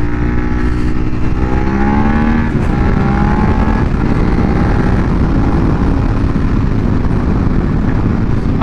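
A 2019 Suzuki SV650X motorcycle engine revs hard in second gear, its loud, close drone climbing steadily in pitch, then holding a rough, steady roar under wind rush with no talking.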